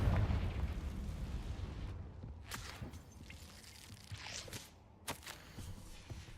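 Muffled booming bursts and rumbling thuds from the Confringo fire spell in Hogwarts Legacy, a heavy low blast at the start followed by several sharper impacts and crackles.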